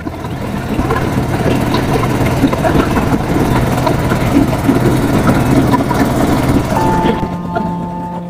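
A river trawler boat's engine drones steadily, rumbling continuously, loud and close, with a faint hum lingering as it settles near the end.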